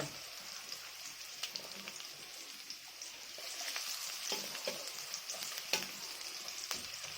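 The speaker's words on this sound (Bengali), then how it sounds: "রসুনটা একটু ভালো করে ভেজে নেবো" Garlic, slit green chilies and ginger sizzle steadily in a hot pan of oil, a continuous crackling fry with occasional sharper pops and soft stirring scrapes, close and moderately loud with no talk.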